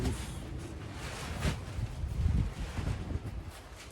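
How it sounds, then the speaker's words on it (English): Steady wind gusting outdoors, a broad rushing noise that swells and fades, with rustling and faint low rumbles underneath. "And it's real windy out here."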